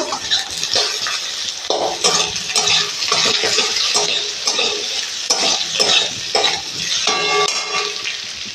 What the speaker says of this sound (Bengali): আলুগুলোকে টুকরো করে তুলে নিয়েছি এরপর আলুগুলোকে ভেজে নেব